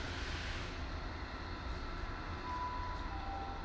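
Diesel unit 158956 passes through Bath Spa station with a steady, fairly quiet rumble and broadband rolling noise, a faint tone rising briefly near the end.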